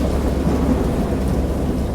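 Deep rolling thunder with steady rain hiss in a fierce storm at sea, a continuous low rumble filling the whole stretch without pause.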